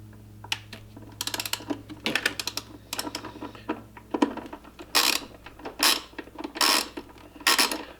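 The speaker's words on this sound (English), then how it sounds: "These are going to be 10 millimeters, so there's 1, 2 more on the other side." Ratchet wrench clicking while backing out 10 mm throttle body screws on a Jeep Cherokee XJ, close and fairly loud, in irregular bursts of quick pawl clicks separated by short pauses.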